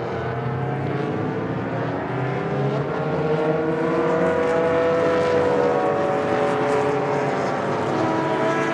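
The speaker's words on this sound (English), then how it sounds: "Heading down into turn 1, we've got a pair of Porsche 914 six-cylinders running second and third" Race car engines roar as a pair of six-cylinder Porsche 914s and a Porsche 911 head into turn 1 during a vintage race at Indianapolis, a loud, steady multi-car drone that swells slightly as the field passes.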